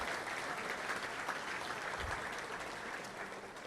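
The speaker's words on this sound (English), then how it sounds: "let's give them a round of applause" Steady applause from a crowd at a touchdown club meeting, sustained clapping that fades slightly toward the end.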